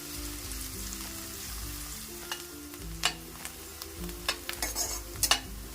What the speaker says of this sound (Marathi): एक मोठा बाउल कांदा घेतलेला आहे, कारण कांदे पोहे आहेत म्हणून. आपण हे छान फ्राय करून घेणार आहोत.